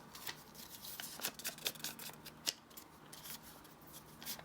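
Inked craft paper being torn by hand, a run of crisp, irregular ripping and crackling bursts at close range, with soft rustling between them and no talk.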